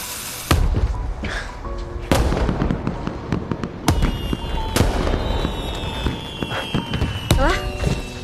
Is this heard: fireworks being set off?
yes